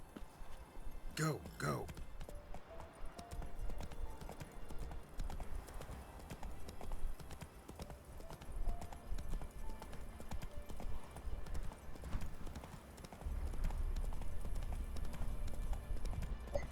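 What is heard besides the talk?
horse Roach galloping hooves in video game Witcher 3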